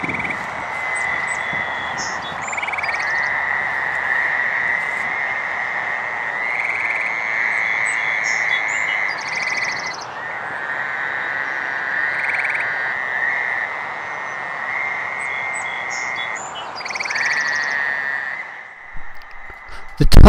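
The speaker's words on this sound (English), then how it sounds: "listening to the Fowler's toads begin their spring mating chorus." Fowler's toads trilling a spring mating chorus at a drainage swale in a Providence, Rhode Island burial ground, long overlapping nasal buzzes repeating almost continuously, close and fairly loud.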